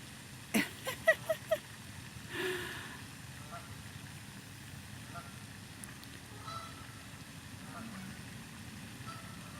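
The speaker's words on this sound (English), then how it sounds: "These Canadian geese. Big flock of them." A few short Canada goose honks from a big flock in a quick burst early on, then a low steady rumble like an idling engine continues with faint background noise.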